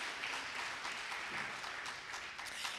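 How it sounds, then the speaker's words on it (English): Audience at a G-20 planning summit applauds, a soft, steady patter of many hands clapping that stays even and somewhat distant for the whole short stretch. "can we just give another smolanyana applause?"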